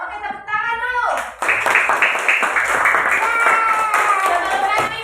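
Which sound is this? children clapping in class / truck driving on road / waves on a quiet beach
children clapping in class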